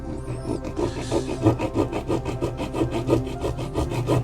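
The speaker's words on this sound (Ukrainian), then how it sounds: "Навіть намагається щось пиляти." A dull saw blade on a fake Victorinox multitool rasps back and forth across a small wooden block, a steady rhythm of close, gritty strokes repeating about three times a second.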